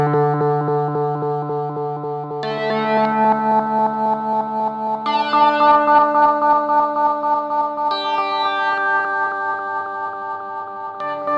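An electric guitar stacks chord tones with a delay effect: sustained, ringing notes build up one after another into shimmering layered chords, loud and close with no other sound.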